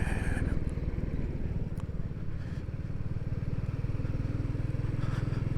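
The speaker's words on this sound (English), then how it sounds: "The Royal Enfield's just puttering along." A Royal Enfield Classic 350 motorcycle putters along a country road in Glen Clova, a steady, close, low-pitched thumping engine note with rushing wind, continuous throughout with no talking.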